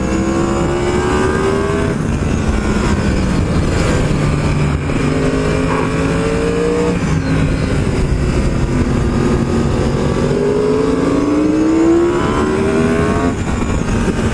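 A Yamaha R1M sport motorcycle on a mountain road, its engine note climbing and falling through repeated rising sweeps as it accelerates and shifts gears, loud and steady with wind noise underneath.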